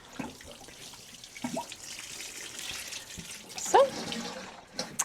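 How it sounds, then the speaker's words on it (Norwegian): Water running and splashing as plants are watered inside a greenhouse, a soft continuous pour with a few brief clinks and knocks, close and moderately quiet. "Da har jeg fått vannet runden her i drivhuset."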